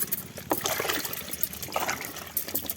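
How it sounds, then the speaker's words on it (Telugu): Okra being washed by hand in water, with soft trickling and splashing close by, steady and fairly quiet with no talking. "ఇలా బెండకాయలు ఇవి శుభ్రంగా కడుక్కోవాలి"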